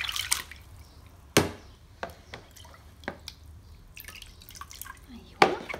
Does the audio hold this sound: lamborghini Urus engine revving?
no